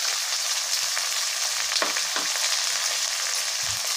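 Vegetables such as beans, capsicum and radish sizzle and fry steadily in a pan for bisibelebath, a constant close hiss with occasional stirring scrapes.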